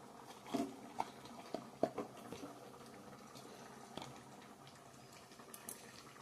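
Peas for ghugni simmer in a pot on the stove, giving a soft, steady bubbling and watery patter with a few brief louder blips near the start, fairly faint and with no talk.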